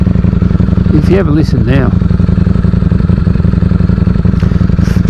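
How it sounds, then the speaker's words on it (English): A Ducati Streetfighter V4 motorcycle idles nearby with a loud, steady, rapid mechanical pulsing and clatter, while someone talks over it. "if you listen to the Ducati when it's idling and that, it sounds very clattery"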